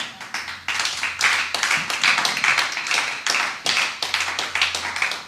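A church congregation claps loudly and steadily in praise during a gospel service, dense rhythmic hand claps filling the room, with faint voices underneath.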